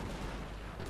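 Cannon and artillery fire in a World War I mod for the Mount & Blade: Warband game, a brief, loud, dense boom filling the whole short moment with no talk.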